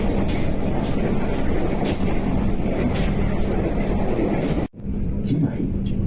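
The Parahyangan train from Jakarta to Bandung, heard from inside as a steady rumble and wheel noise with a brief drop near the end, under a faint background voice.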